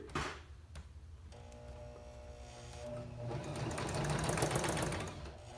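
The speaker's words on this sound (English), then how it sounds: "this again is just like a fourth of an inch seam that I'm making" A sewing machine stitches a quarter-inch seam on a fabric face mask, its needle ticking in a fast steady rhythm that speeds up and gets louder partway through, heard up close with no talking.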